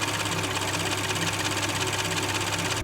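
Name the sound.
Porsche Macan engine running with injector noise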